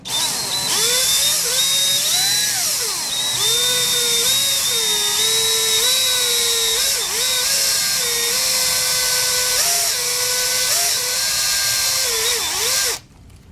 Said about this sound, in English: I know you got to drill slow because you're drilling into metal.